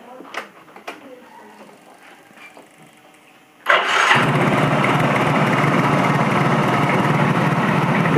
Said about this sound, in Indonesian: Bunyinya mesin naik turun.